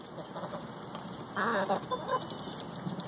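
A chicken clucks softly during a bath, a short burst of throaty clucks rising briefly above a steady background hiss of running water or ambient noise.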